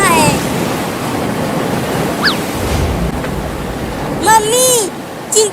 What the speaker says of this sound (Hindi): बाढ़ का पानी बढ़ रहा है।